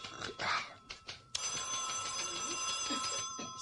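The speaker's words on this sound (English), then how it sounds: "Answer the phone." An old telephone bell ringing in a radio play, a continuous bright metallic trill that starts abruptly after brief scuffling sounds and carries on steadily at moderate loudness.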